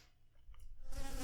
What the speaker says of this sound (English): It was a wasp, and an unseasonably massive wasp at that.